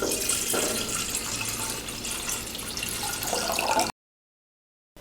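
Water pours into a cooking pot for boiling potatoes. A continuous splashing, running flow lasts about four seconds, then stops.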